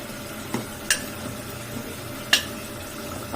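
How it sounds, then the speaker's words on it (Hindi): Tomatoes being sautéed in a pan: a soft steady sizzle with a few sharp clicks of a utensil scraping and stirring against the pan, quiet and close, with no talking. "तो हमें इसे थोड़ा सा भूनना है, पहले तो टमाटो के साथ"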